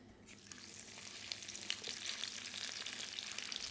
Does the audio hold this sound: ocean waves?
no